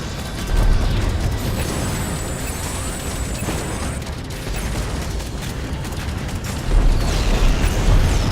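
Space combat in Strike Suit Zero as two capital ships are torn apart, a steady roar of rumbling explosions and mechanical clatter with heavier booms near the start and end, no voices.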